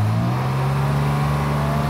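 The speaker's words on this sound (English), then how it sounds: "we step onto the gas, off it goes" A Kubota RTV X utility vehicle in low range accelerates from a stop, its engine holding a steady, loud, close drone with a slowly rising tone and no speech.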